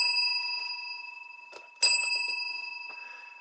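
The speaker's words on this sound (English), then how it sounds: "What are those little bells?" Small bells ringing lightly with clear sustained tones, a few faint jingles and one brighter strike near the middle, close and quiet with no talking over them.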